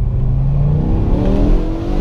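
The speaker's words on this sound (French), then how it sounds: "le V10 de 5 litres de 507 chevaux, tiré tout droit de la F1" A 2010 BMW M6 Competition with a 5-litre, 507-horsepower V10 revs loud and close. Its engine tone climbs steadily in one smooth, rising pull, with no talking over it.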